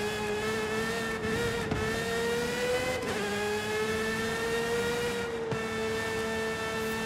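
A car engine in Forza Horizon 5, in a European Automotive event, revs and holds a steady drone, dipping briefly at gear shifts, loud and close with no talking.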